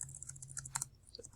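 A question being typed on a computer keyboard, a quick run of soft, close key clicks over a low steady hum.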